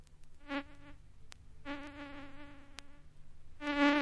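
A buzzing insect, a bee near a carriage window glass, drones in a thin whine that rises and fades in several passes, faint and close, with small ticks between buzzes.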